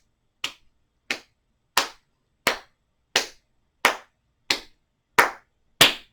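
A cupped hand pats the inside of the elbow in a yoga balance session, nine close, crisp slaps spaced evenly about two-thirds of a second apart, each ringing briefly in otherwise quiet surroundings.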